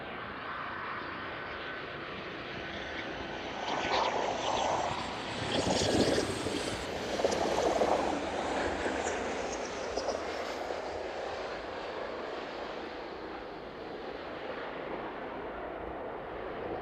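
A propeller airliner lands at East Midlands in the evening, its engines rumbling loudly and close for a few seconds mid-clip before easing back into steady broadband noise.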